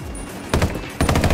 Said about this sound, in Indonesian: Siapa sih nembak gue?